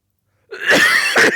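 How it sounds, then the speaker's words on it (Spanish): A teacher coughs twice during a class, two sharp close bursts in quick succession after a moment of silence. "me agarra la tos cuando tengo que dar clase"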